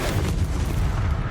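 A Confringo fire-blast spell exploding in Hogwarts Legacy: a loud, heavy, rumbling burst of boom and crackle that fills the whole short moment.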